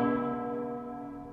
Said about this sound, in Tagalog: Bakit ganyan ang tunog ng kampana? Parang sa patay.